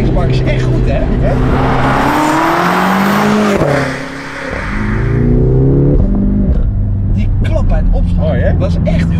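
A powerful BMW M6 convertible engine growls and revs through gear changes, rising and falling in pitch, while people talk over it inside the car.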